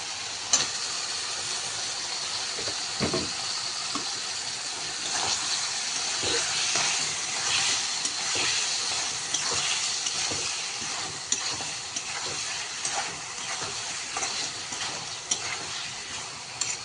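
Fish being stirred into a spice masala in a hot pan, a steady close sizzle and hiss with scraping stir strokes throughout, no talking.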